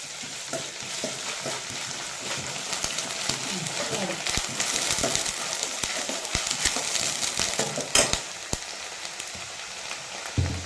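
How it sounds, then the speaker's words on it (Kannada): Ginger garlic paste frying in a pan for an egg gravy, with a steady broadband sizzle and crackle plus occasional scraping stirs and sharp clicks close by, continuing without pause. "ಅದು ಹಾಕ್ಕೊಂಡು ನಿಮ್ಗೆ ಎಷ್ಟು ಬೇಕೋ ಅಷ್ಟು ಹಾಕ್ಕೊಂಡು ಫ್ರೈ ಮಾಡ್ಕೊಳ್ಳಿ ಚೆನ್ನಾಗಿ"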